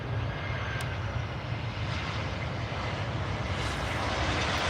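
An easyJet airliner arriving from Belfast at Edinburgh Airport, heard as a steady, loud, broadband engine roar that continues unbroken through the whole stretch with no voices.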